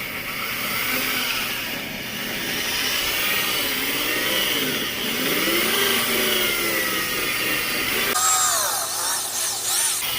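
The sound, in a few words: power drill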